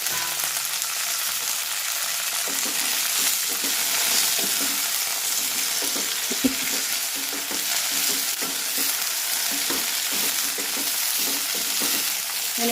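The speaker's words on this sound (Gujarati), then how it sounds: "ધીમે ધીમે મિક્સ કરતા જશું ધીમા ગેસ ઉપર જ આપણે મિક્સ કરી અને ચડવા દેવાનું છે" Ridge gourd peel chutney mix being stirred in a pan over low gas, a continuous soft sizzle with repeated scraping and clicking strokes of the spoon, steady and close, no voices.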